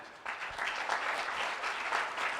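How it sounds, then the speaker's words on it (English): An audience claps for speakers at a young leaders' session of the NALS 2013 scout gathering, dense steady applause that starts abruptly and holds throughout at an even level. "please give them a round of applause."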